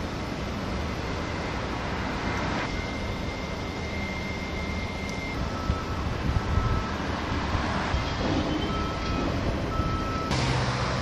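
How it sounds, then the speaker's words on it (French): A busy port on Réunion carries a steady, loud rumble of trucks arriving to collect unloaded vehicles, with reversing beeps and machinery layered over constant engine drone. "il y a des camions qui arrivent pour récupérer des véhicules comme celui-ci là-bas"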